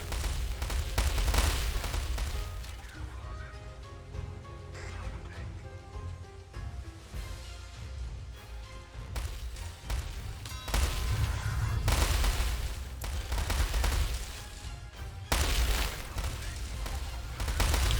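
Rattling volleys of gunfire and dull artillery booms from a World War strategy game, including Katyusha rocket strikes, roll on continuously with dense overlapping bursts, while a voice talks faintly over the battle.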